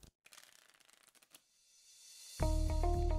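A deck of playing cards is shuffled up close: a quick run of riffling flicks, a brief pause, then a steady rising whir as the cards cascade together.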